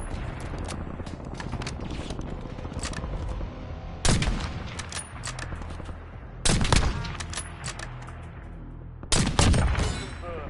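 Gunfire in the video game Call of Duty: a steady backdrop of distant shooting with three loud, close bursts of rapid fire at intervals.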